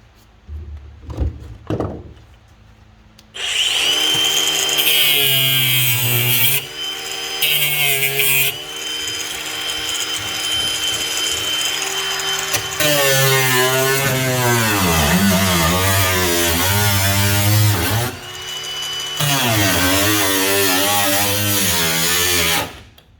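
Power wrench spinning out fasteners on a classic Ford Bronco tub, a few knocks then loud whirring bursts that rise and fall in pitch, repeating close up with brief pauses.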